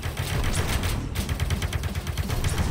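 Two weapons fired at once in the VR pirate game Space Pirate Simulator, producing a rapid, loud, continuous rattle of overlapping gunshots with a brief gap near the middle before the firing resumes.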